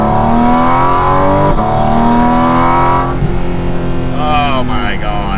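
A Porsche 718 Cayman GT4 RS Weissach engine revs hard and close to about 6,000 RPM, its harmonic whine climbing and holding, then dropping away as a voice speaks over the final seconds.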